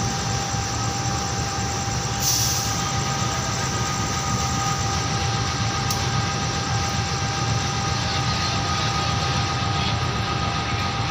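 Train set idling at Pasar Senen station at night before being moved out, a steady, loud engine drone with a constant hum throughout, and a couple of brief clanks partway through.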